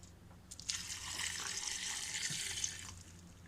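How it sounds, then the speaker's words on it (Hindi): Water pours steadily into a cooking pot of meat seasoned with ground spices and coriander powder, a soft continuous splashing stream lasting a few seconds, close but fairly quiet, with no voices. "ऐड करने के बाद हम इसमें थोड़ा सा पानी ऐड कर देंगे।"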